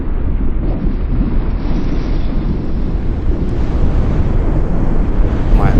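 A detonated 100-pound propane tank burns in a huge fireball, heard as a loud, unbroken, wind-like roar that fills the whole stretch, with no distinct bang at the start.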